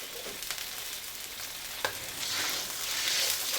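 Sugar being stirred into a glutinous rice pilipit mixture in a hot pan, a close continuous sizzle with scraping stir strokes and no talking.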